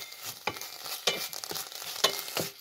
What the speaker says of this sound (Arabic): فدرنا معلقه تاع الزبده على المشماش ديالنا وكنحركوه غير شويه حتى كتذوب الزبده